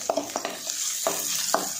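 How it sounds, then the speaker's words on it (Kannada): Onions frying in oil in a pan for tomato saaru, with a steady close sizzle and a few sharp scraping stir strokes spaced through the short stretch, no talk. "ಈರುಳ್ಳಿ ಕೂಡ ಚೆನ್ನಾಗಿ ಫ್ರೈ ಮಾಡ್ಕೊಳ್ಬೇಕು."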